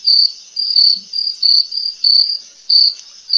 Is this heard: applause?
no